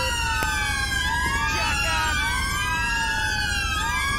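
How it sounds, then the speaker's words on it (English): Several police car sirens wail continuously in the GTA 5 video game with a UK police mod, rising and falling in overlapping sweeps during a bike pursuit, loud and steady over engine rumble. "do we want to maybe cut some sirens here?"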